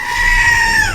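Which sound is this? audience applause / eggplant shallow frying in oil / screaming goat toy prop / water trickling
screaming goat toy prop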